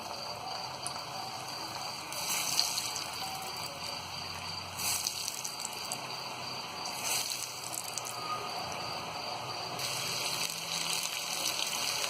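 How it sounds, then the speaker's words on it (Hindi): Cornflour-coated potato fries sizzle in very hot oil in a kadhai, a steady close bubbling hiss that swells slightly in waves throughout, with no voices. "अब हम ये आलूओं को इसमें डालेंगे।"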